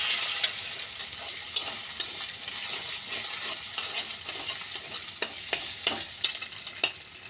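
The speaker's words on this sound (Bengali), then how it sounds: "ডিমটা ভালোভাবে ভাজছে।" An egg frying in oil in a pan gives a steady close sizzle, with occasional sharp pops and crackles scattered through it.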